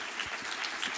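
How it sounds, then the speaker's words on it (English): Brief, moderately quiet audience applause for the speakers at a plenary session, steady clapping from a room without any talk over it. "So, a round of applause, please, to the speakers."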